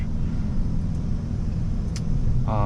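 A 2024 Chevy Silverado ZR2 diesel pickup being driven, heard from inside as a loud, steady low engine and road rumble with a brief higher whine near the end.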